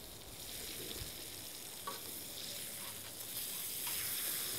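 A flour-dusted fish fillet fries skin side up in a pan, giving a continuous close sizzle that swells slightly toward the end, with no voices.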